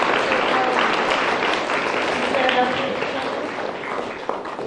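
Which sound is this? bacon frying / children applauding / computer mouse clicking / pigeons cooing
children applauding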